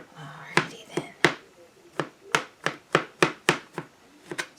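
A kitchen knife chops mushrooms on a cutting board for Thanksgiving dressing, about a dozen sharp, close, fairly steady knocks with short gaps between them, heard alone.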